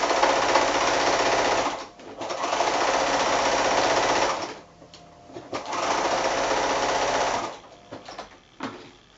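A sewing machine stitches fabric onto a tea towel in steady, loud whirring runs, pausing briefly between bursts of rapid needle chatter.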